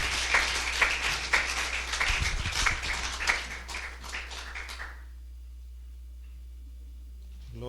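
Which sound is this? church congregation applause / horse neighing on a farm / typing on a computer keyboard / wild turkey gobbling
church congregation applause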